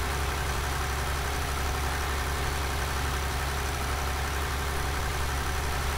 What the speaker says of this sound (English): I'm really fond of this Deutz tractor